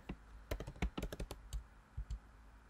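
Keys on a computer keyboard clack in a quick, irregular burst of typing, close and fairly quiet with no talking.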